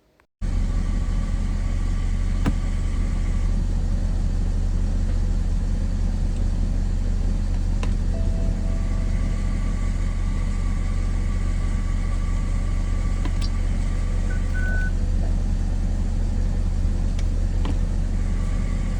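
A BMW 330xd with a ZF 6HP automatic transmission low on oil runs steadily, its engine droning and rumbling continuously with faint whining tones and occasional faint clicks layered over the hum.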